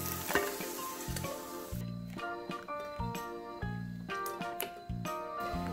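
Potato pancake frying in a pan: steady close sizzle with sporadic pops and clinks, with a soft hum and tonal background sounds underneath.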